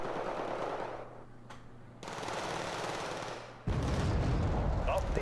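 Flak Panzer Gepard A1 anti-aircraft autocannons fire in a video game strategy match, with dense rapid bursts that pause briefly and then come back harder and louder at the end.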